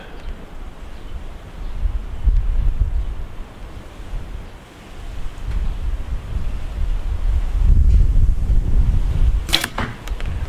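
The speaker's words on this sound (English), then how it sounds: "There's a bit of wind around and it's cold." Cold gusts of wind blow outdoors during an archery bow test, rumbling against the microphone in rising and falling surges, with a sharp brief clack near the end.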